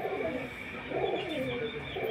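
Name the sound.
pigeons cooing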